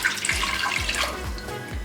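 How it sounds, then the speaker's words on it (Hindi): Water pours steadily into a pot of raw mutton chops seasoned with salt and ginger-garlic paste, a continuous close splashing wash with a few soft gurgling dips, no voices. "पानी ऐड करेंगे 2 छोटे गिलास।"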